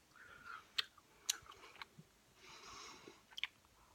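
Quick, quiet chewing of bubble gum close to the mic, soft wet smacks with a few sharper clicks scattered across a few seconds, no talking.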